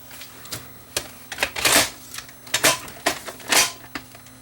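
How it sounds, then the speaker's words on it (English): A VHS tape pushed into a Panasonic VHS camcorder, a close series of plastic clicks, rattles and mechanical clunks in uneven bursts as the cassette is handled and seated. "I can put the tape back in."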